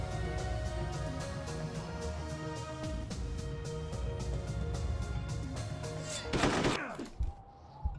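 Sniper rifle gunshots in Hitman: Codename 47, a rapid series of repeated sharp shots over game music and ambience, ending in a louder burst and a brief drop-off.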